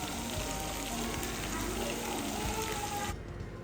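Potatoes and vegetables sautéing in a pan, a continuous close sizzle with faint stirring scrapes that drops in level near the end.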